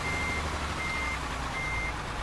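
Steady electronic reversing beeps from a heavy truck being parked in Euro Truck Simulator 2, sounding continuously over a low engine rumble with a faint tonal whine, no talking.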